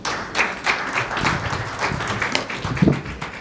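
A modest audience at a legal education conference claps in scattered, uneven bursts, individual hand claps standing out close by, with some room noise.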